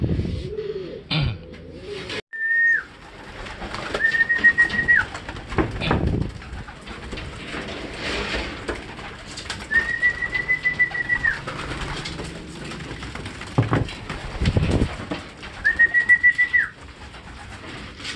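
Racing pigeons coo repeatedly inside a loft on loading day before a derby, with low murmuring calls recurring among several clear, steady whistle-like tones and background noise.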